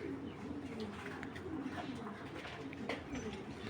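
A chocolate-coloured male racing pigeon coos softly in a repeated low rhythm, quiet and close, with faint background hum.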